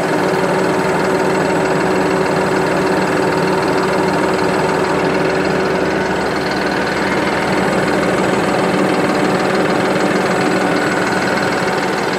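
A Deutz-Fahr 5080 D Keyline tractor engine idles steadily and loudly with a constant mechanical drone and light knocking rhythm, no voices present.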